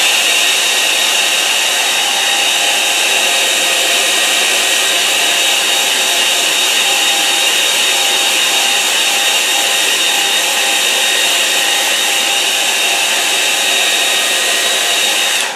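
A hair dryer blows steadily and loudly on a watercolour river painting, a constant close whirring roar with no pauses and no voices.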